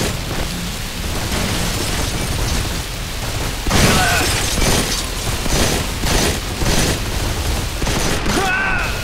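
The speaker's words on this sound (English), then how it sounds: "Firing on the enemy!" Gunfire from the Android shooter game Modern Combat 4: Zero Hour, a loud, dense wash of overlapping shots and blasts that swells into sharper repeated bursts midway and keeps rattling to the end, with faint voices mixed into the din.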